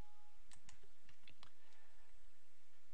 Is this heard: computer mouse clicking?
yes